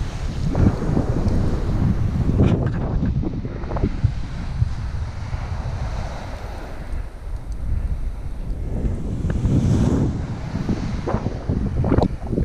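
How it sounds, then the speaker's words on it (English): Waves and gusting wind on a sandy beach, a broad steady roar with surges swelling and fading, wind buffeting the microphone close up throughout. "It's a beautiful beach"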